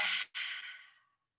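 A person lets out one deep, close, breathy exhale while stretching with the arms opened out to the side, broken by a brief catch, then trailing off into quiet.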